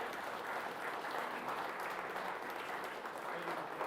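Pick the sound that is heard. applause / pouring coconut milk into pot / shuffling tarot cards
applause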